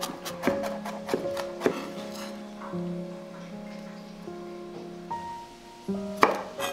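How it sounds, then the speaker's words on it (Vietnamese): A knife minces garlic cloves rapidly on a cutting board, a quick series of sharp taps with short pauses, close by, over faint background noise. "Bằm 2 đến 3 tép tỏi."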